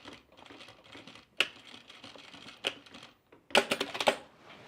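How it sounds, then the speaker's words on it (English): A sewing machine back stitches over a zipper on a fabric laundry basket, giving bursts of rapid, close mechanical needle clatter separated by short pauses, loudest in a dense run near the end. "let's back stitch this better too"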